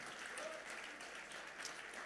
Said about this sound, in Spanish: Fuerte ese aplauso de alabanza para el Señor